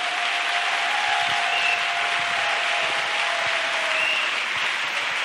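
A church congregation claps together in steady, dense applause at a worship service, the sound continuous and fairly loud throughout with no talk over it.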